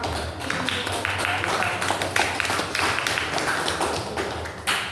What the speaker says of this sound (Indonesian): beri aplaus untuk Mbak siapa?